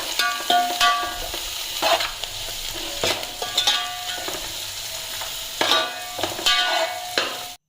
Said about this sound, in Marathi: लसूण मिरचीच्या फोडणीवर टाकले आता कोबी कोबी मस्त शिजून घेते